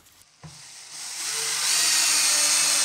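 A power tool drives screws into pear wood rocking horse runners: after a faint tap, the motor spins up into a rising, steady whir that holds loud and close to the end.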